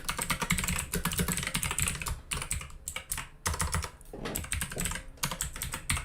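Rapid typing on a computer keyboard while writing JavaScript code for a Discord bot, a steady close patter of key clicks with no talk.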